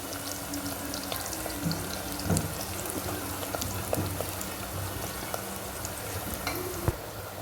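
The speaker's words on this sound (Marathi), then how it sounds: "आपला कांदा लाल होईपर्यंत आपण तळून घेणार आहोत" Chopped onion frying in a pan for khichdi gives a soft, steady sizzle and crackle with a few faint clinks, heard alone with no talking.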